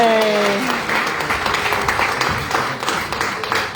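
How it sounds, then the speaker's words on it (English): An audience breaks into a round of applause at a book launch, with dense steady clapping close by and a voice briefly heard over the start of it. "Let's give her a big round of applause"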